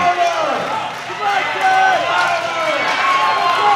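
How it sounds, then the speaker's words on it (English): Crowd at a women's junior 43-52 kg classic powerlifting world championship cheering loudly and continuously, a dense roar of voices and yells filling the hall. "And the crowd goes crazy."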